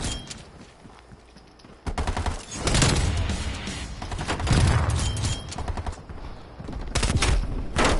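Three-round burst gunfire in Call of Duty Black Ops Cold War, loud rapid clusters of shots that repeat through most of the stretch after a quieter start, with no talking.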